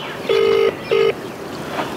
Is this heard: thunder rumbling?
no